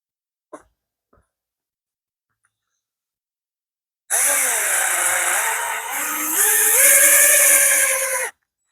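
A power drill drives trim screws into wood in one loud, continuous whirring burst of about four seconds, its pitch shifting as the screw bites. It follows near-silence broken only by a couple of faint clicks.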